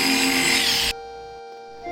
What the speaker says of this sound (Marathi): त्यानंतर ड्रिलिंग मशीन इथे ड्रिल करून घेतो आहे.